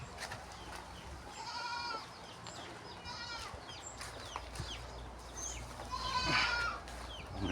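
Goats on a farm bleat several times, some quiet and one louder near the end, against a faint outdoor background with occasional chicken sounds.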